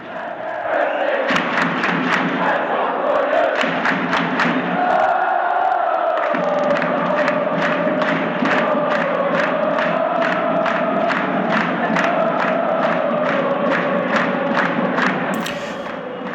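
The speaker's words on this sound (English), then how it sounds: "the sounds of the game that you're hearing just underneath my voice is the Victory fans in the North" Melbourne Victory supporters in the North Terrace at Etihad Stadium chant in unison during a football match, a loud, sustained crowd roar with rhythmic claps or drum beats pulsing steadily through the chant.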